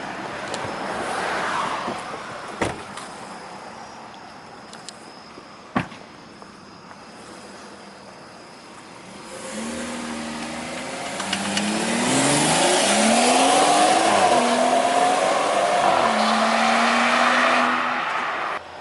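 A BMW M540i fitted with a catless downpipe drives past outdoors, its engine rising from a distant hum to a loud, raspy acceleration with shifting revs as it nears and passes.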